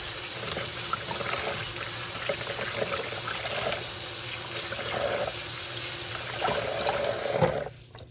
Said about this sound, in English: So I'm just gonna rinse it.